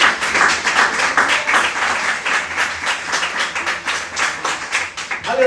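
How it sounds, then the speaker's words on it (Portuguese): A church congregation applauds during a worship service, the clapping dense and steady for the full stretch, fairly loud and close, with a faint voice near the end. "Dê uma salva de palmas ao Senhor."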